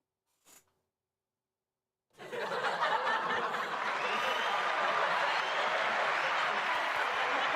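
Canned laughter and applause sound effect from a live talk show: a brief faint snicker, then after a pause a sudden burst of crowd laughing and clapping that swells and holds loud and steady to the end.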